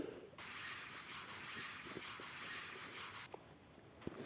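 A spray bottle spritzes a scent in one sustained hissing burst lasting about three seconds, quiet and close, with faint rustling before and after.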